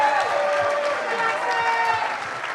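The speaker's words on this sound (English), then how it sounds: "That's the right amount of cheering." A studio audience at a basketball-themed show cheers and applauds in a dense, steady wash of clapping and crowd noise, fairly loud throughout with voices mixed in.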